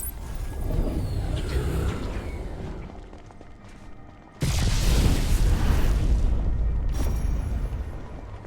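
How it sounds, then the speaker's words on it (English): A loud explosion bursts in the Arknights: Endfield video game, a sudden heavy boom followed by several seconds of thick roaring rumble, with a second sharp blast near the end over continuous game ambience. "Attends la prochaine explosion."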